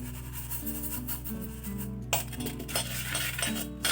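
A utensil stirs a henna paste made with sugar and tea powder in a bowl, making continuous close scraping and clinking against the sides with no speech.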